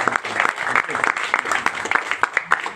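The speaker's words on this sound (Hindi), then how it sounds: "एक बार ताली अपने लिए बजा सकते हैं।" A motivational seminar audience bursts into clapping for themselves, a dense, irregular patter of many hands close by with sharper individual claps standing out, with a voice heard faintly over it.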